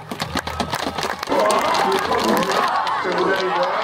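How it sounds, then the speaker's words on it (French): Crowd applause and cheers at an outdoor Gallo-Roman festival event, following a short stretch of a voice on a loudspeaker, then swelling into a dense, steady, fairly loud wash of clapping with voices mixed in. "En tout cas, on peut vraiment les applaudir."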